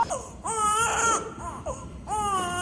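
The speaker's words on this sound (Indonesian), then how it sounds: "samar-samar dia mendengar suara tangisan bayi" A baby cries in loud, wavering wails, rising and falling in several bursts with short breaths between them, close and clear at night in a palace setting in a school drama about the Pajajaran kingdom.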